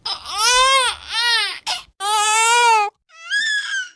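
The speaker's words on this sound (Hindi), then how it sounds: "उनको किसी सियार के बच्चे की रोने की आवाज" A jackal cub cries in a series of high, wavering wails, three or four drawn-out calls with short pauses between them, loud and close.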